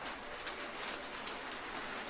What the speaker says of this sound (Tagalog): Oh my God, nag-ulan guys.